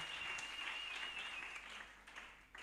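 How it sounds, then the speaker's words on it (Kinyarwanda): A church congregation claps together during a service, giving a soft, steady wash of applause that fades near the end, with a thin tone running faintly through the first part. "Shangilia cyane Mungu kwa makofi sana"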